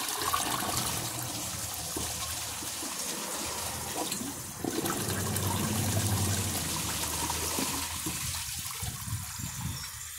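A 1995 Crane Galaxy Elite toilet flushes with a loud, continuous rush of water that swells midway, then settles into draining and trickling as the bowl empties, with no talking.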